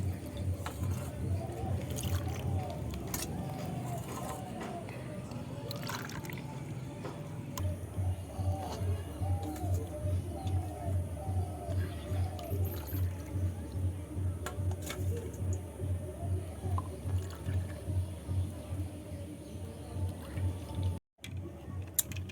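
Homemade ice cream mixture poured into ice cream containers, a soft trickling and splashing that repeats steadily up close as each container fills, with a low rhythmic hum behind it and brief talk.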